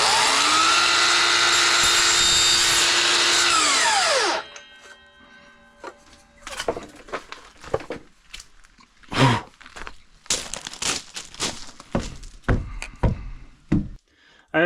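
A power tool whines loudly and steadily for about four seconds as it cuts through PVC vent pipe, then cuts off, followed by scattered knocks and handling clatter.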